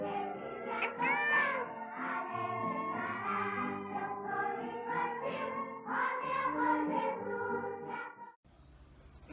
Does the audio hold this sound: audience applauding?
no